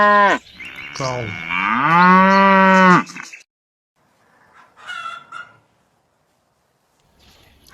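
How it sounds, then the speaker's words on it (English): A cow lets out one long, loud, close moo that rises and holds before fading, followed by faint, scattered farmyard sounds. "Cow."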